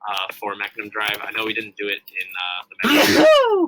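A single sharp sneeze bursts out loud and close after a stretch of ordinary conversation between people.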